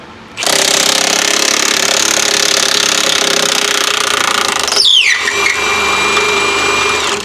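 A half-inch Milwaukee power tool runs on a Suzuki outboard during derigging, a loud, steady, close mechanical whine that starts abruptly, dips briefly in pitch midway, then keeps running to the end.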